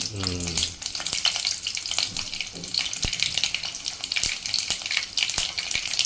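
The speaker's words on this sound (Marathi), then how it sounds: "तेल टाकलंय आता आपण यामध्ये मोहरी टाकूया एक चमचा मोहरी" Mustard seeds and crushed garlic hit hot oil as tempering for a palak masoor sambar, giving a loud, continuous sizzle with sharp crackles and pops throughout.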